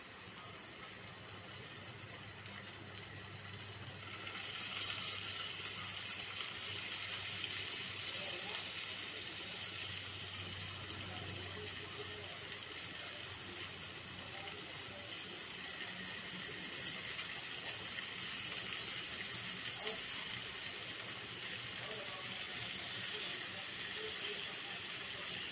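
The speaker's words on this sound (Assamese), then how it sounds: "এতিয়া মই পনীৰখিনি ইয়াতে ভাজি ল'ম।" Paneer frying in about two spoonfuls of melted butter in a pan makes a faint, steady sizzling hiss that continues unbroken, quiet and close, with a low voice in places.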